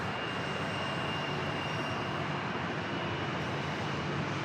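An airliner's jet engines roar steadily at San Diego Airport on runway 27, a broad, constant rushing drone with no pauses, fairly loud and heard alone.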